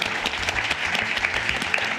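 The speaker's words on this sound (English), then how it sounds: "big round of applause for Alex." A crowd claps steadily and densely, a continuous wash of many hands applauding at once, close and even in loudness.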